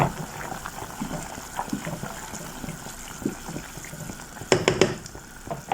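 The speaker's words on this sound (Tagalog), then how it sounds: "Ayan, dagdagan natin ng tubig kasi lalapot yan." Water poured into a simmering vegetable and oatmeal soup in a pot, a low gurgling splash under quiet background sounds, ending in a brief louder burst of pouring.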